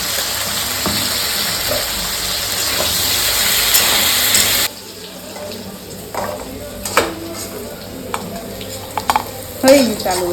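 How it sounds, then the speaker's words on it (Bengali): Potatoes fry in a pan with a loud, continuous sizzle that suddenly drops away, followed by scraping and clinking as a utensil stirs them in quick, uneven strokes. "হয়ে গেছে আলু ভাজা।"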